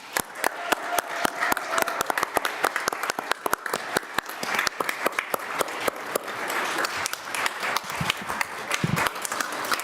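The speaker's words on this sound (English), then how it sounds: "please join me in a round of applause for Pamela Van Hine" Audience applause at a county board meeting: a sustained crowd clapping with dense, rapid claps throughout, fairly close and steady, with faint voices underneath near the end.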